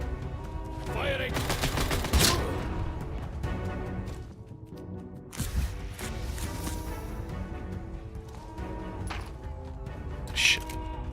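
Rapid bursts of gunfire in the video game Atomfall crackle through a busy mix, with a sharp peak early on and scattered shots later, while a voice talks over the action.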